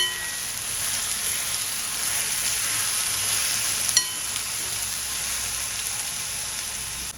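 Kolim, tiny dried shrimp, sautés with masala in a pan, giving a steady close sizzle with a brief stirring clink partway through and no talk.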